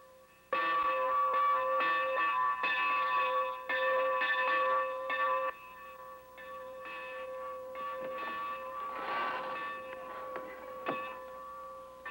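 A cannery work bell rings in a 1963 TV drama, a loud and steady clanging that repeats in quick strokes for several seconds, then continues more softly with no voices over it.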